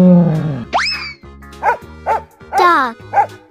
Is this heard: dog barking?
yes